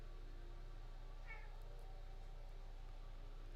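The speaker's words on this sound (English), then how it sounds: "Can y'all hear the cat screaming?" A house cat meows in a short rising-and-falling cry around the middle, moderately distant over a steady low room hum, with a couple of faint clicks afterward.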